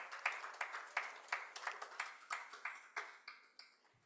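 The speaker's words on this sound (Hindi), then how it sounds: "हम तालियों से स्वागत करते हैं आपका" Sparse, individual hand claps from a modest audience in a hall, welcoming a noted Sanskrit scholar and linguist onto the stage; the claps are distinct and uneven rather than a dense roar, and they thin out toward the end.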